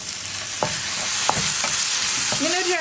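Masala for a green peas curry fries in a pan with a soft, continuous sizzle, broken by several brief scraping strokes of a spoon stirring it.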